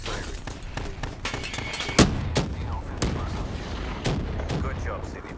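Rapid automatic sentry gun fire in a Call of Duty Black Ops 3 Team Deathmatch match, a steady stream of shots with sharp louder bursts and booming impacts mixed into dense battle noise.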